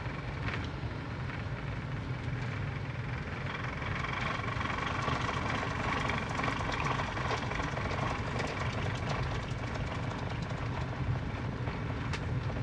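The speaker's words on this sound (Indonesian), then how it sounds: "Nah, gigi 3 speed 10 langsung digas." A 2021 Daihatsu Sigra engine pulls steadily in third gear at low speed, a continuous close droning hum heard from inside the cabin that holds an even level for the whole stretch, with no talking over it.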